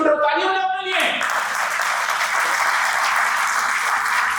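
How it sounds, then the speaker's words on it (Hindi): A seminar audience of direct-selling distributors breaks into loud, sustained applause that swells after a brief voice at the start and continues steadily throughout. "तालियां बजाओ अपने लिए।"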